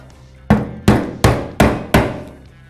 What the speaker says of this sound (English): Just get your screwdriver and tap counterclockwise till it comes out.